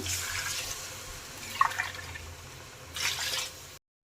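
Water runs and splashes into a pot of rice in two bursts, the second louder and near, with faint drips between.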